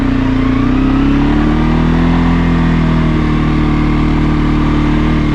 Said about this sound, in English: such an easy takeoff